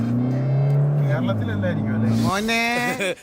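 A Toyota Fortuner accelerates in sports mode, its engine note climbing steadily in pitch through the gears with a harmonic drone, loud and close from inside the cabin, with voices present.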